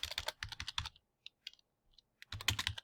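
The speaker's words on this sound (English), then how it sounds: "So I'm going to go ahead and type in something." Close-up typing on a computer keyboard in Google Docs, with two quick bursts of key clacks separated by a few sparse, isolated taps.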